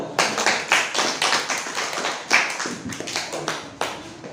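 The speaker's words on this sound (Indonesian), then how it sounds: "Tepuk tangan untuk kelompok 1." A small group of students in a classroom claps for Group 1, uneven individual hand claps in loose bursts, fairly close and modest in volume.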